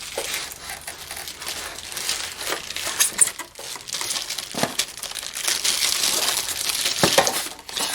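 A Vevor flex shaft tool being pulled from its packaging, with close crinkling plastic and crumpling wrap, rustles and a few clinks of metal parts running for several seconds, with no talking.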